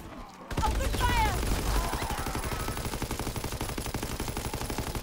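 Rapid automatic gunfire rattles in a zombie shooter video game, a loud sustained burst of repeated shots that continues steadily, with players' voices in the mix.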